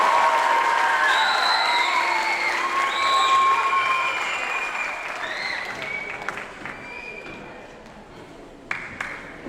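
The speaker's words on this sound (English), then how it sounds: "Can we give another round of applause, please?" Audience applause at a middle school band spring concert, a broad wash of clapping that fades over several seconds, with chatter and a few sharp pings and taps as it dies down.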